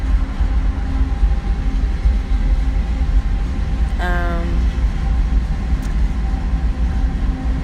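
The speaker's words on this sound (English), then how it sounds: "the engine part of this train passes by" A train rolling past close by, a loud steady rumble throughout with a brief tonal squeal or horn-like sound partway through.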